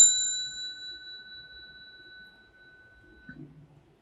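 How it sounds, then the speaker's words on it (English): A mindfulness bell at a Buddhist gathering in Singapore strikes once, its clear bright tone ringing out alone and decaying slowly over several seconds in a quiet room. "they have what they call a mindfulness bell"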